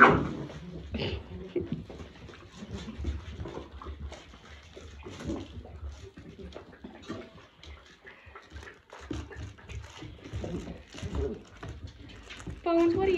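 Young puppies scuffle and whimper together, with small yips, thumps and rustling throughout, close to the microphone, while a person talks intermittently over the play-fighting.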